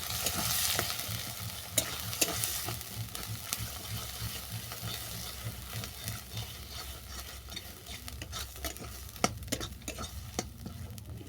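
Water lily paste with black cumin fries in a pan while a utensil stirs and scrapes it, making repeated sharp clicks over a soft, continuous sizzle, close and fairly quiet.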